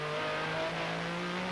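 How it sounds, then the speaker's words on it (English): A GT2 race car at an FIA GT 2000 race accelerates away, its engine giving a steady, loud droning note that holds strongly throughout, with no talking over it. "watch the GT2 car pull away"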